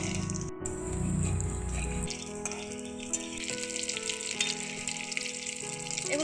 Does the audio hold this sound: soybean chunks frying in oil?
yes